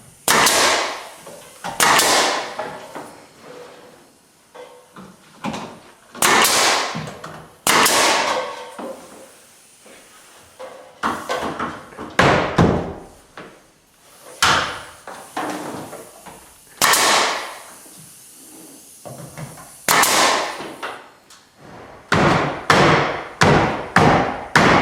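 Pine ceiling boards for a timber frame loft are knocked into place with repeated loud, hard thumps in irregular bursts. The blows ring out close by with short gaps between them and a little background activity.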